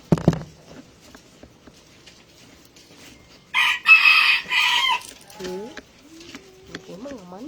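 A rural rooster crows once in a long, strained call at moderate distance, with softer clucking from chickens afterwards and a brief voice and faint background noises beforehand.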